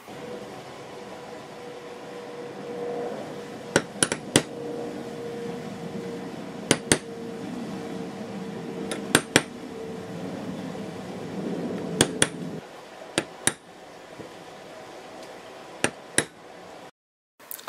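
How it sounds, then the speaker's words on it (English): Sharp metallic taps ring out in small clusters of two or three, a hammer striking a center punch to mark hole positions on metal for a scratch-built model train, over a low steady hum. "The using tool is center punch and hammer."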